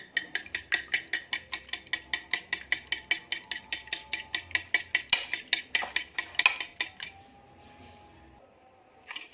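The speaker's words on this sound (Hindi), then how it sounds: "अब इसे फोक की मदद से मिक्स करेंगे।" A fork beats a salted mixture in a bowl with fast, even, close ticking strokes for about seven seconds, then stops, leaving quiet with a faint clink at the end.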